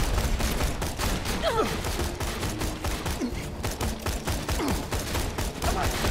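Rapid gunfire from Borderlands 2 in the Tiny Tina DLC, dense sustained bursts of shots crackling close and loud for several seconds, with brief game voice sounds and effects mixed in.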